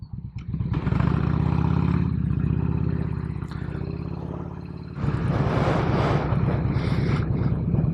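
A Harley-Davidson Road King rumbles as it pulls into a gas station, its engine dropping to a loping idle and then opening up loud again with wind buffeting the microphone.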